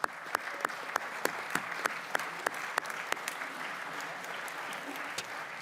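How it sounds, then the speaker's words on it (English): Applause in a congressional committee room welcoming a new member, sparse distinct hand claps rising out of a soft wash of clapping, fairly quiet and steady for several seconds. "Let's everybody give Mike a round of applause and welcome."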